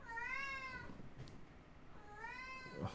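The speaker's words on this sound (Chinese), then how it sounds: "猫咪跑出来吵" Two drawn-out cat meows, one near the start and another near the end, with a faint gap of room noise between them.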